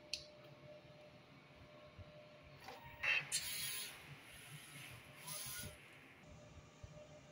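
Inkjet printer with an ink tank system running a nozzle test, faint mechanical whirring and clicking of the print head moving in short passes over a low background hum.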